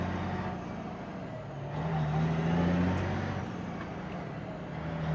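A Peterbilt 359 truck engine pulls hard through the gears, its deep drone swelling and easing as the rig climbs through each gear, loud and steady with no talk over it.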